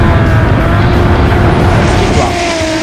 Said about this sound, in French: Jérémy Mériès qui va s'élancer ici à bord de sa toute nouvelle Toyota Supra 1JZ